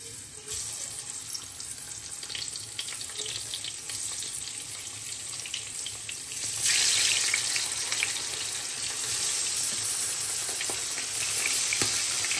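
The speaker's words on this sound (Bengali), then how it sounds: "মাছটা ভেজে নেই।" Spiced fish frying in a pan, a continuous loud hissing sizzle that swells and grows brighter partway through, heard close with no talking.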